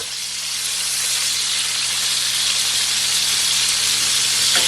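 Pork pieces for Jamaican brown stew sizzle loudly and steadily in a hot pan as they are turned, a dense, continuous frying hiss with no voices.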